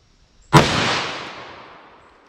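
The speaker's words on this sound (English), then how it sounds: "So 44 Magnum, 180 grain." A single .44 Magnum shot from a Smith & Wesson Model 69 revolver firing a 180-grain load cracks out close and loud, then rings away in a long decaying tail.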